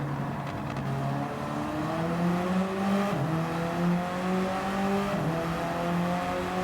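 Lexus race car in a WTCC racing game at Autopolis, engine droning steadily with gear-change dips around the braking zone, then pitch climbing again as it accelerates, continuous and close throughout.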